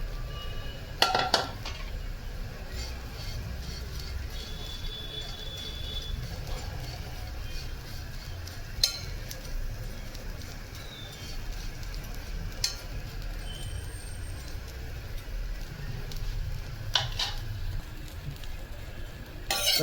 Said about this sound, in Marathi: हा आपण जवळा घेतलाय, कढईमध्ये टाकूया आणि भाजून घेऊया